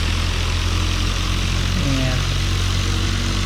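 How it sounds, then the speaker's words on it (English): Steady droning propeller aircraft engine at low taxi power in Microsoft Flight Simulator, a constant idle-level hum with a brief tonal whine partway through. "Let's get through taxiing here and set up on runway 22."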